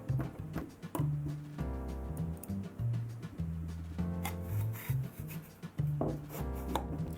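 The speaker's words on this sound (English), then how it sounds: "Now you can screw the chamber back together and push it back into the outer barrel." Parts of an airsoft sniper rifle's hop-up chamber are screwed together and pushed into the outer barrel, giving close, quiet scraping, clicking and rubbing handling sounds over soft background music.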